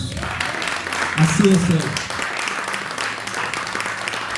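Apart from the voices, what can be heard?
church congregation applauding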